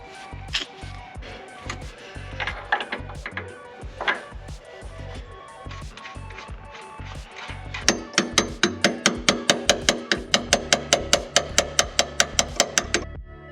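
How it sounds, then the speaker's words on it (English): Bolts being fitted into car suspension coilovers in a garage, with scattered clanks and knocks, then a close, fast, even run of rattling ratchet clicks near the end. "Putting the bolts in."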